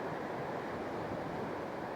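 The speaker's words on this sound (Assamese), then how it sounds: "মানে এনেকুৱা বতাহ মাৰি আছে না" Strong stormy wind blows hard and steadily during a storm, a dense, continuous roar that stays loud and unbroken throughout.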